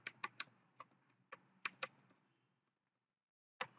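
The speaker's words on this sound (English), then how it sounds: "type your Jupyter notebook" Typing on a computer keyboard: a burst of about eight close, crisp key clicks over two seconds, a pause, then one more firm keystroke, quiet and alone.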